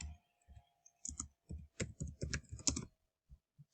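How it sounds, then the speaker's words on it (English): Keystrokes on a computer keyboard as a short web search is typed, with irregular bursts of close, crisp clicks and brief pauses between words. "I'll just type in the word"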